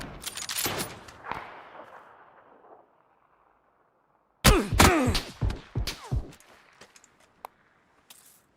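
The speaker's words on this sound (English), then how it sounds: "What's the point of shooting me?" Rapid gunfire bursts in the video game PUBG, with a loud volley at first that trails into a reverberant tail. After a short silence a second, harsher burst of shots rings out, followed by scattered single cracks.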